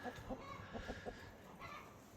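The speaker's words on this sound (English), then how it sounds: "He's a sapphire gem rooster." A sapphire gem rooster in a backyard chicken run gives a few soft, faint clucks that sit low under a quiet background hum.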